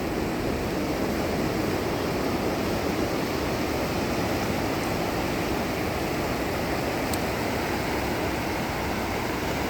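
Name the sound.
sea waves on the beach, Qingdao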